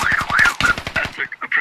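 Rapid automatic gunfire from the military shooter game Squad rattles out in fast bursts with brief gaps, with a voice faintly present underneath.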